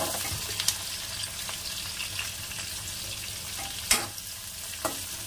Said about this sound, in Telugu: ఇదిగోండి ఫ్రై అయిపోయి ఉల్లిపాయలు తెల్లుల్లి పచ్చిమిరపకాయలు వేసుకొని ఫ్రై